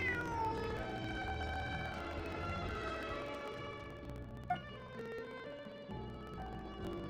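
A stray cat in Genshin Impact meows repeatedly over a steady bed of soft game music, its calls faint and mixed low rather than standing out.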